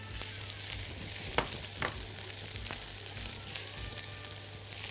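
Onions sauté in a pan with a quiet, steady sizzle and frying crackle, broken by a few soft clinks of stirring.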